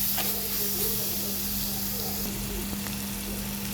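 Onion and tomato sauté in a pan for Kerala-style prawn roast, giving a broad, steady hiss of frying. A continuous low hum from a stove or fan sits underneath.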